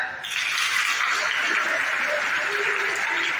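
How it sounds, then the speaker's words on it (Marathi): Audience clapping at a Marathi commemorative lecture, a soft, even patter of many hands that continues steadily and fairly quietly for a few seconds. "हसत हसत वाजवा टाळ्या"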